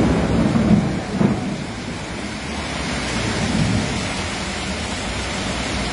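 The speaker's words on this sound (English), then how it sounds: "The force of the rain made the roof tiles unable to withstand the violent storm." Heavy rain pours steadily during a violent thunderstorm over a car dealership in Xativa, Spain, with a rolling rumble of thunder near the start and a dense, continuous wash of rainfall throughout.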